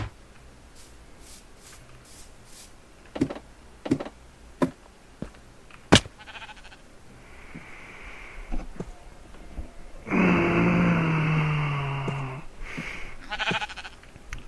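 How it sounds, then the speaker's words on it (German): Sheep bleating in Minecraft: a couple of short bleats near the middle, then a loud, drawn-out wavering bleat, among scattered clicks and thuds of game activity. "Die schnell noch ein Schaf anlocken."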